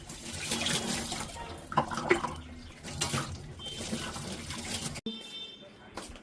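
Tap water runs steadily over a new bottle being washed, splashing and gurgling as the flow shifts, with voices speaking faintly in the background until the water stops abruptly near the end.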